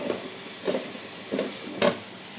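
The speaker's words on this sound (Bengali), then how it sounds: "এবার আমি থোড়টা ঢাকা দিয়ে দেবো" Banana stem cooking in a pan, a steady sizzle and hiss with three or four soft clanks from a lid being set on and adjusted, no talking.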